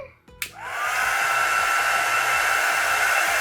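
A hair dryer starts with a click and quickly settles into a loud, steady whooshing blow close up, drying freshly applied nail polish colour, with faint background music underneath and no talking.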